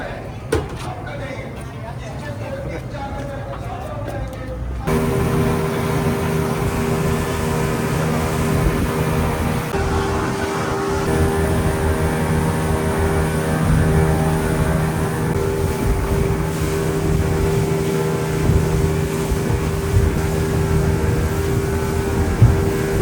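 A boat's engine at Coral Island off Pattaya, Thailand, droning steadily and loudly as the boat slows, with a sustained low hum that starts abruptly after a quieter opening with a voice.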